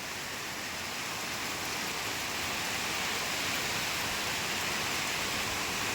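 Rain falls steadily near a bamboo grove, an even, wide wash of hiss that stays at a constant moderate level without pause.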